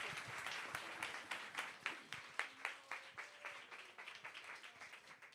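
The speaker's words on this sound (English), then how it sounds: "But a big round of applause for these amazing women." A modest audience at a health innovation summit panel claps for the speakers, steady distinct hand claps, fairly faint and a little distant, without talk.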